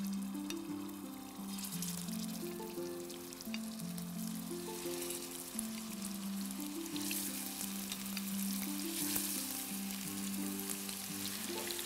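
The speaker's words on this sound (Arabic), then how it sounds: "أحط قطع اللحم" Pieces of meat frying in corn oil for spicy kofta, a continuous moderate sizzle and crackle, with a melodic background tune running underneath and no talking.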